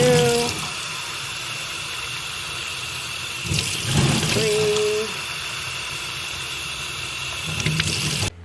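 Water solution poured from a watering can onto houseplants indoors, a steady close trickle and splash running for several seconds with brief louder gushes, no talking.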